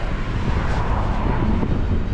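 Headwind buffets a microphone during a spring bike ride in Crimea, giving a steady low roaring rush throughout with no speech.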